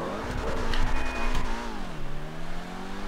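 A new supercar in a GTA V Cunning Stunts race revs loudly and close, its engine pitch climbing and then dropping sharply before settling into a steady drone.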